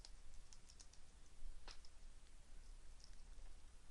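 Typing on a computer keyboard while entering code for a web service call: fast, light clicking keystrokes, close and fairly faint, in quick irregular bursts with one sharper key hit, no voices.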